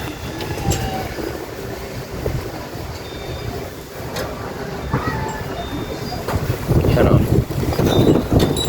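Wind buffets the microphone in gusts over a low rumbling background, growing stronger toward the end.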